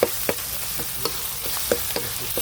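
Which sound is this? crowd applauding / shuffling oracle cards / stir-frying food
stir-frying food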